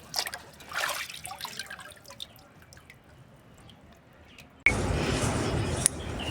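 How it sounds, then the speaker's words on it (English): Ripe bananas are rinsed with water outdoors, with soft drips and splashes at first, then a louder steady rush of pouring water near the end. "I'm done washing."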